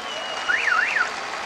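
Audience applause in a hall, a steady, even wash of clapping with a brief whistling tone riding over it.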